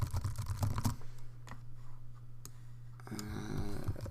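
Typing on a computer keyboard comes through as scattered light clicks and taps at close range over a steady low hum.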